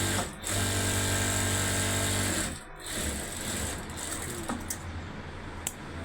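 An electric sewing machine stitches a salwar in a tailor shop. It runs at a loud, steady, buzzing whir, stops briefly, then starts again at a lighter, more uneven pace with faint clicks.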